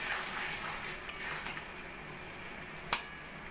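Chicken for tehari is stirred with rose water and garam masala in a pot, producing a quiet, soft simmering hiss with two crisp utensil clinks, the second louder.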